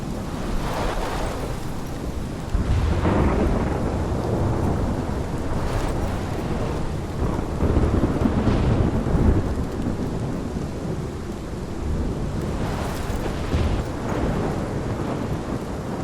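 A thunderstorm with heavy rain in the video game Life is Strange: a steady loud roar of rainfall with rolling thunder rumbles throughout, and no voices.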